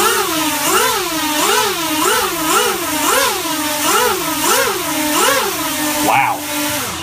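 Small 3D-printed quadcopter motors throttling up, a loud buzzing whine that rises and falls in repeated pitch surges about every half second, then drops away near the end.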